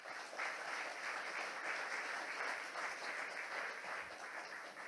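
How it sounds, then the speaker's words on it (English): A conference audience at MoneroKon applauds, a steady, dense wash of many hands clapping that holds evenly for several seconds, moderately distant and without talk over it. "Give everybody a hand for what you've accomplished this year."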